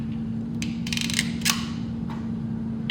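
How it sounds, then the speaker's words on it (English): Crimping tool squeezing an eyelet terminal onto a black ground cable during a truck light bar install, a few short ratcheting clicks and squeaks of the tool close up over a steady background hum. "I'm going to crimp it."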